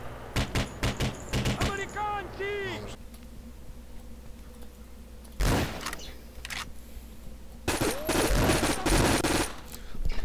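Gunfire from the Conflict Global Terror video game in online co-op play: quick bursts of automatic shots up front, then a lull, then more scattered loud shots. Someone talks over parts of the firing.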